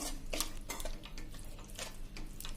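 Garlic-flavoured puffed rice and sev being stirred in a pan over a slow flame, with intermittent scraping and clinking strokes of a spoon against the pan, close and moderately loud.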